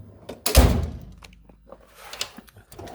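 Drawer of a US General toolbox from Harbor Freight sliding shut with a sharp close thunk near the start, followed by softer clicks and light handling rattles.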